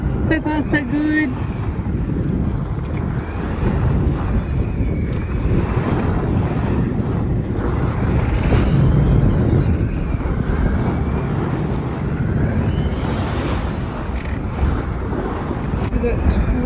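Wind and waves while sailing an Amel sailboat in about 12 knots of breeze, a steady rushing roar of wind buffeting the microphone over sloshing water, loud and continuous, with a voice talking through parts of it.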